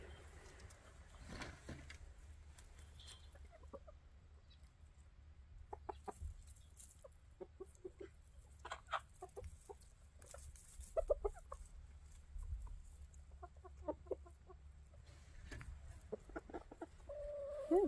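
Chickens and roosters, one with a large comb, cluck and call softly outdoors in snow, with scattered brief vocalizations at middle distance over a low steady background rumble.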